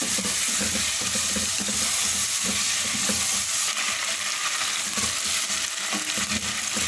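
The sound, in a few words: chicken frying in a pan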